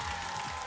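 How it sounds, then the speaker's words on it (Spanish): Brief, steady audience applause, a dense wash of clapping at moderate level with no breaks. "un aplauso"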